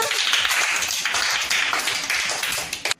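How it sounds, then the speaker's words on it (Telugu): Several children clap together in a dense, uneven burst of hand claps. The clapping is loud and close and runs steadily before stopping abruptly. "క్లాప్స్ కొట్టండి అందరూ"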